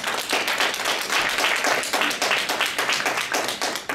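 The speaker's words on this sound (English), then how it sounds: "give yourself a big round of applause" An audience at an entrepreneurship program award ceremony applauds, dense, sustained clapping from many hands that stays loud and steady throughout.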